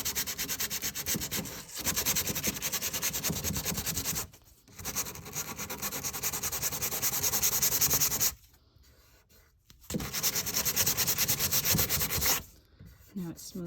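Hand sanding smooths the lip of a wooden French Provincial dresser, a close, steady rasping rub in long strokes broken by two short pauses.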